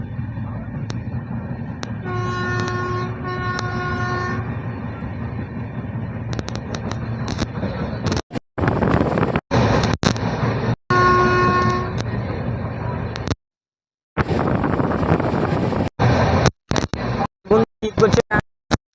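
Express train running through Dankuni station, heard from on board: a long two-part horn blast over loud rumbling rail noise, with a few more toots later and talk over the din.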